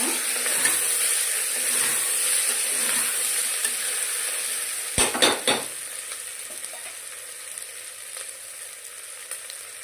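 Paneer pieces being stirred and fried in a pan while cooking a paneer biryani, a steady close sizzle running throughout with a brief cluster of spoon scrapes and clinks against the pan midway.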